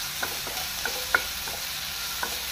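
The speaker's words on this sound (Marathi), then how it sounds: "टोमॅटो मातसो चडच हे आसा, शिजलेलो आसा तो ताका बरो आमी फ्राय करून घेवया" Chopped tomato frying in a pan gives a soft continuous sizzle, broken by a few light spoon clicks and stirring scrapes, close up and fairly quiet, with no one talking.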